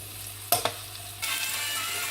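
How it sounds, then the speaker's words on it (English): Onions frying in a pan for a lasagne sauce, a steady sizzling hiss with two sharp clinks of a utensil early on. The frying swells louder and brighter partway through and holds steady, with no talking. "We're going to fry the onions"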